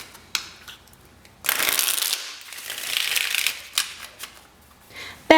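Tarot cards are riffled and shuffled in close, crisp bursts, with a long rustling shuffle in the middle followed by a few shorter flicks and taps.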